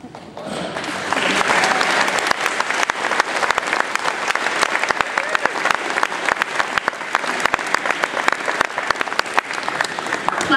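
Audience applause follows the unveiling of a class artwork at a graduation, starting after a short quiet moment and then swelling into sustained, dense clapping from a large crowd.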